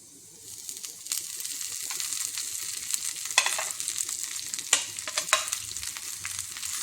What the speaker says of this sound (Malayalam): ഉള്ളിയും മുളകുമൊക്കെ മൂത്ത് വന്ന് ഇതിലേക്ക് നമുക്ക് അരിഞ്ഞ് വെച്ചിരിക്കുന്ന പത്തില ഇട്ട് കൊടുക്കാം